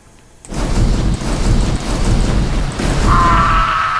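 In a "lil car" video game, shot barrels burst into a loud explosion after a short quiet start, followed by a sustained heavy rumble and a faint high tone emerging toward the end.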